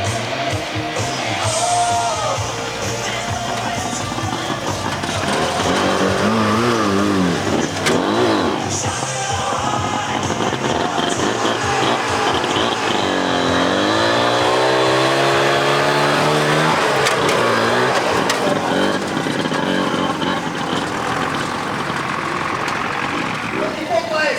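Tractor engine revving hard at full power during a tractor pulling contest in Malá Čierna, a loud steady roar with rising pitch sweeps, close by and continuous, with an announcer talking over it.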